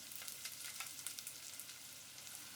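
Crackling, popping sizzle of mustard seeds frying in hot oil, steady and close, with scattered sharp pops.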